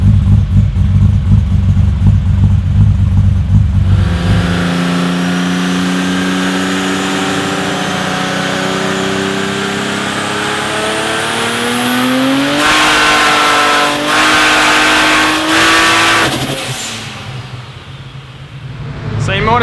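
A turbocharged drag race car with Haltech EFI and a Powerglide automatic transmission revs loudly up close, its pitch sliding up and wavering as it tries to stabilise, then bursting into a harsher roar before cutting back and fading.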